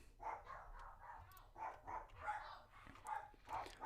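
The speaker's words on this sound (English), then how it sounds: "But the dogs do like to scream a little bit." Several dogs bark faintly in another part of the house during a tabletop role-playing game session, a quick run of muffled, repeated yips and woofs at low volume.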